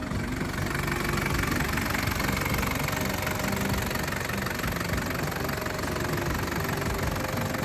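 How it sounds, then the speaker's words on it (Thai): The 3.0-litre diesel engine of a 2005 Isuzu Thairung Adventure 4x4 idles close up, a steady rough knocking rumble that holds even and unbroken throughout. "มาลองฟังเสียงเครื่องยนต์กันนะครับ"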